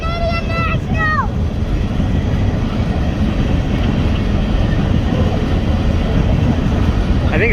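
A BNSF freight train with a Canadian National locomotive rolls past at Palmer Lake, Colorado, a loud continuous rumble and clatter filling the whole stretch, with children's excited voices and brief whistling cries over it.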